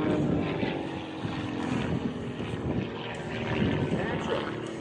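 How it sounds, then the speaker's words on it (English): A small Pitts biplane performs aerobatics at an air show, its propeller engine droning loud and steady with a rough, buzzing tone that swells slightly toward the end, over a background of crowd and announcer noise. "look high into the sky as this little teeny biplane, known as the Pitts 1."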